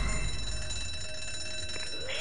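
An alarm rings in the survival horror game ZombiU, a steady high electronic bell-like tone holding at moderate level across the moment, with low rumbling ambience underneath and no talking.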